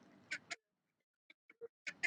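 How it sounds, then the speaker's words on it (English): A friendly duck on a canal towpath quacks for food at close range, several short, nasal honking calls in two bursts separated by quieter, clipped sounds, with no talking. "Well, this is what you call a friendly duck."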